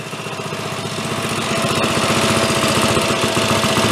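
A snow blower engine that had been made useless by a past repair runs steadily close by, a loud rapid putter with a rough pulsing rhythm that swells slightly.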